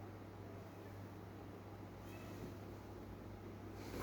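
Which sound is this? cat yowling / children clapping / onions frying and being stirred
cat yowling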